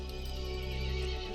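A horse neighs in the Resident Evil Village video game, a sustained whinny with faint hoof clip-clops, steady and moderately loud with no talk.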